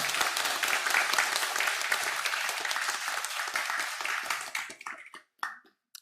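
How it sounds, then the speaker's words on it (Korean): A church congregation applauds to welcome a first-time visitor: dense, steady clapping from many hands fills the room, then breaks into a few scattered last claps and fades out. "우리 큰 박수로 환영해 주시면 감사하겠습니다"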